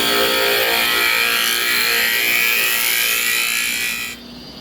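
A woodturning gouge cuts a spinning piece of barnwood on a lathe, pushed in a drill-and-push stroke, giving a steady loud hissing scrape that drops off abruptly near the end.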